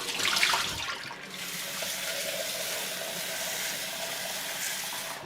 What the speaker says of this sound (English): I've just changed the water one more time